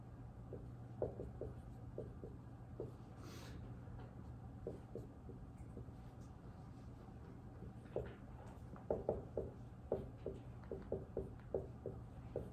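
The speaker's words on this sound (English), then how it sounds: "I will just write it out" Pen or pencil writing out math homework by hand, with quiet scratching strokes in short bursts and pauses, close and soft, without any voices.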